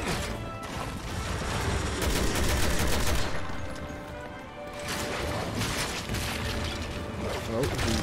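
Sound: gunfire in Resident Evil 6 video game

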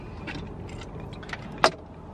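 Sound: car keys dropped

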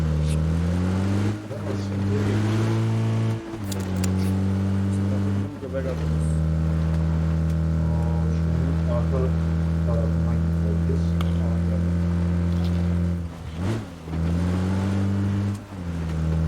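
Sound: car engine driving in the video game PUBG Battlegrounds

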